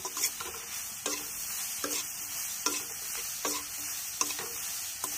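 Green beans with salt are stirred and fried in a pan, a steady sizzle running throughout while a spoon scrapes and clinks in regular strokes roughly once a second; no one talks.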